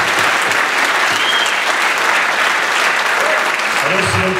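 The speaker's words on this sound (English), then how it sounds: "Can we get a round of applause for the entire class of 2013?" Large audience at a senior awards ceremony applauds the graduating class of 2013, a loud, steady wash of many hands with cheers rising in the crowd, and a voice speaks near the end.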